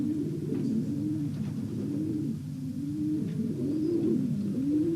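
Pigeons coo steadily in a breeding loft, a dense chorus of overlapping low, rolling calls repeating in waves from several nearby birds, with no voices.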